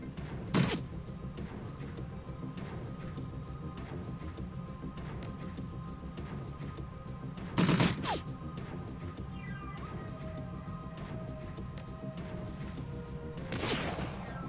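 Gunfire in the video game Shadowrun Dragonfall: three separate sharp shots spaced several seconds apart, each standing out over steady, continuous game background sound.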